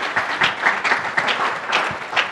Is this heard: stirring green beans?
no